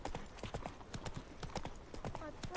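Roach the horse's hooves clip-clop in a steady walking rhythm in The Witcher 3: Wild Hunt, fairly quiet, with a person talking over the footsteps.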